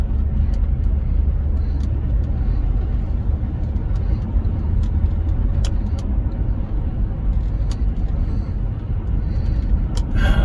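Steady car traffic rumbles on the road throughout, a dense continuous drone heard from inside a vehicle with faint clicks on top.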